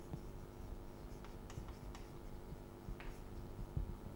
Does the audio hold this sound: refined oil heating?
no